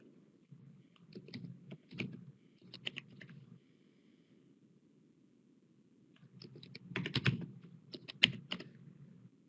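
Bursts of keystrokes as a password is typed on a computer keyboard, quick clustered clicks in two main runs separated by a pause, over a low steady hum.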